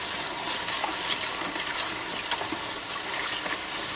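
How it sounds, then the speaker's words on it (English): Liquid in a pot for homemade beef jerky coming to a boil: a steady, soft bubbling hiss with faint pops, fairly quiet and continuous, no voices. "Now it's starting to come to a boil"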